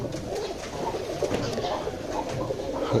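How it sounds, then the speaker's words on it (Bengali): Pigeons kept in a village coop in Bangladesh coo steadily and close by, a soft layered murmur of several birds overlapping throughout with no speech. "আমার দুলাভাই কবুতর পালেন ওনার কবুতরগুলো এখানে রাখা আছে"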